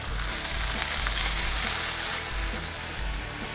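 Fish fillets grilling in olive oil in a hot frying pan, a continuous close sizzle with soft popping that holds steady throughout, no voices.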